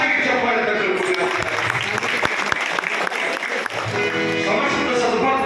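Loud, sustained applause from a devotional gathering's audience, dense continuous clapping for several seconds with a brief dip near the end, faint voices mixed in beneath it.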